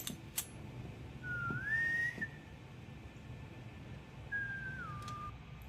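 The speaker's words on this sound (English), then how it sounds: "Oh, he knows the whistle." A person in the Hawkeye TV episode whistles two short rising-and-falling tones, clear and fairly quiet, with a pause between them and no talk over them.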